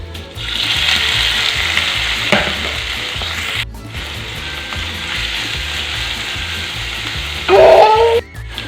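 Garlic cloves and onion chopped in a chopper fry in hot oil, a loud, steady close sizzle with a short burst of stirring clatter near the end, and no speech.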